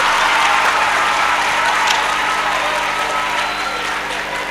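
Sustained crowd applause at a sports festival panel in Djegueya, a dense steady wash of many hands clapping that fades slightly toward the end.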